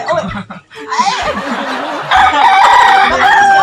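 A rooster crows loudly and close by, a long drawn-out call that swells near the end, with laughter and chatter around it.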